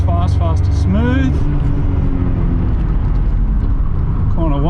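An R31 Skyline on a hot lap gives a loud, constant engine drone heard from inside the car, pitch shifting as it accelerates, with someone talking over it.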